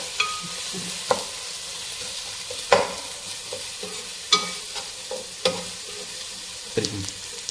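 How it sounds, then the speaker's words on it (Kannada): Ginger garlic paste fries in a pan with tomato, its steady close sizzle broken by several sharp scraping stirs of a spoon against the metal, no voices. "ಜಿಂಜರ್ ಗಾರ್ಲಿಕ್ ಪೇಸ್ಟ್ ಹಾಕಿದ್ದೇವೆ. ಇದನ್ನು ಫ್ರೈ ಮಾಡಬೇಕು, ಬ್ರೌನಿಷ್ ಕಲರ್ ಬರುವವರೆಗೆ."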